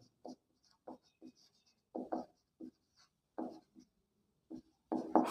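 Writing on paper during a math lesson, short scratchy pen strokes in quick bursts separated by pauses, close and quiet in a silent room.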